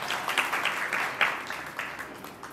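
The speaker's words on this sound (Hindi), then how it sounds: "बहुत बढ़िया, ताली बजाओ सब लोग।" An audience claps at a religious welcoming ceremony, producing a dense, steady patter of applause with small bursts, moderately loud and close, with no voices over it.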